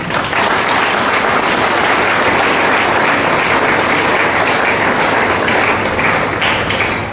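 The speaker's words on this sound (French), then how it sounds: "je nous demande de les applaudir" A congregation applauds at a church closing Mass for a jubilee, steady, loud and dense clapping that holds evenly throughout without pause.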